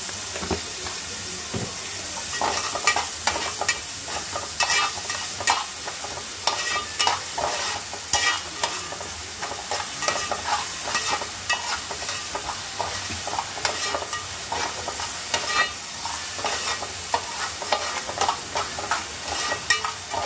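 Onion fries in a pan with a pinch of salt, a loud, close, continuous sizzle broken by repeated rhythmic scraping of a spoon stirring throughout.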